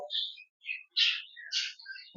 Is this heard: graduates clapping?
no